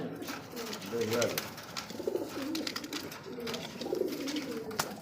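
Racing pigeons coo in low, rolling phrases, repeating steadily at close range beneath a speaking voice.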